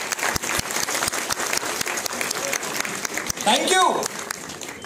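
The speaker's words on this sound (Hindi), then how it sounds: "मैं चाहता हूं गुलशन कुमार जी की स्मृति के लिए एक बार ये पूरा थिएटर तालियां बजा दे।" Theatre audience at a Mumbai press event clapping in tribute to Gulshan Kumar, sharp individual claps near the mic over a steady crowd wash, with someone speaking briefly and cheering swelling toward the end.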